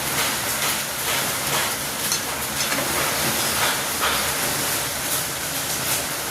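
Hot water poured into a pan of braised meat with spices sets off a loud, continuous hissing sizzle that stays steady and close throughout, with no talking.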